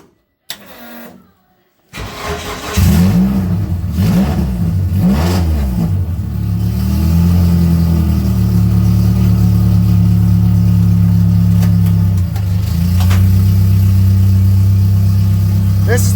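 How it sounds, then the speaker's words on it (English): A Dodge Daytona stock car engine catches after a short cranking burst, revs through several rising swells, then settles into a loud steady rumble as the car moves off under its own power. "let's get this thing moving under its own power for the first time in years"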